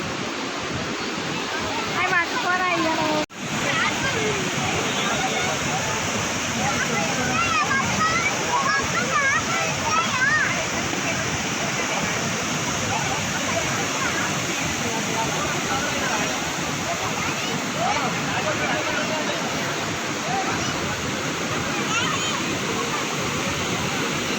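Water roars out of the opened gates of the Himayat Sagar dam in a loud, continuous, close-up rush of churning flow that never lets up, with voices faintly audible beneath it.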